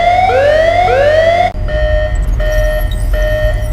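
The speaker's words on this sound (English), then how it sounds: "an emergency alarm suddenly went off." An emergency alarm siren blares loud and close, first in rising wailing sweeps, then switching to a steady pulsing electronic tone that repeats to the end.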